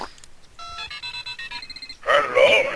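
Telephone dialing in the video game Strong Bad's Cool Game for Attractive People: a quick run of electronic keypad tones, then a short ringing burst, clear and close.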